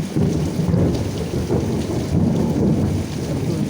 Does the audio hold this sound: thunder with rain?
yes